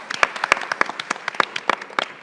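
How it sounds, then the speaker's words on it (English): A small audience at a college board candidate forum gives a brief, sparse round of applause, scattered individual claps close by and fairly quiet. "Yes, they deserve a round of applause."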